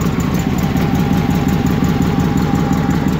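A gasoline engine idling with the choke off, giving a loud, steady, close-up low chugging throb that holds even for a few seconds with no voices over it.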